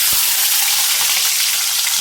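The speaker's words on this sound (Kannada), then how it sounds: "ಇವು ಒಂದು 4 ಹಾಕಿ ಫ್ರೈ ಮಾಡ್ಕೋಬೇಕು ಚೆನ್ನಾಗಿ" Ivy gourd pieces sizzle steadily in a hot frying pan, a dense, continuous crackling hiss at close range with no voices.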